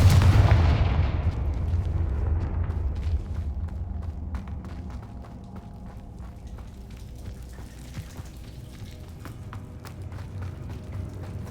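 A Confringo fire spell blasts in Hogwarts Legacy with a loud booming burst at the start that decays into a long, rumbling tail, followed by scattered faint clicks and movement noises.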